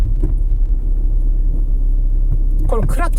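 A manual-transmission car pulls away from a stop, giving a loud, steady low rumble of engine and road noise. A voice speaks briefly near the end.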